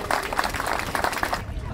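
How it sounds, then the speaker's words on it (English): A crowd gathered outdoors at a groundbreaking ceremony for the Bob Hall Pier rebuild claps steadily, a dense wash of applause sustained for under two seconds before tapering off. "Give him a round of applause"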